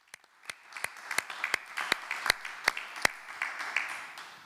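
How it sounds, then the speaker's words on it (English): Sparse applause at a cooperative's general assembly, a handful of separate, fairly close claps building into a light, uneven round that stays thin and modest throughout. "a final round of applause for the two boards"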